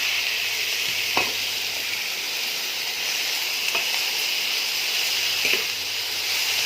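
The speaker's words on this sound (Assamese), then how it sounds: "তেল গৰম হওঁতে এতিয়া কলডিলখিনি দি দিম।" Chopped banana flower frying in hot oil in a kadai, a continuous dense sizzle with a few sharp scrapes and clicks of a spatula spaced through it.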